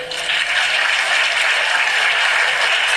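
Audience applause at a gathering, loud and sustained, many hands clapping in a dense even wash for three seconds.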